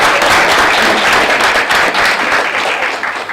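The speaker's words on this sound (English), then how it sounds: "yes, applause" An audience breaks into loud, dense applause during a discussion with an archbishop, sustained close clapping that thins slightly near the end.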